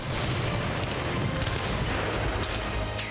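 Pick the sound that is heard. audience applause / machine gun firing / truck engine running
machine gun firing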